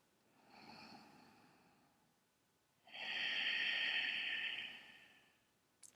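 Slow, deep breathing during a yoga practice, with a softer inhale followed after a pause by a longer, fuller breath of about two seconds, close and quiet with no talking.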